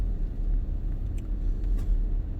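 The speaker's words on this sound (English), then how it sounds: "Where is this Mr. White Range Rover running to? He wants to overtake from the right." A white Range Rover overtakes on the road, heard from inside a moving car as a steady low road and engine rumble with a few faint clicks.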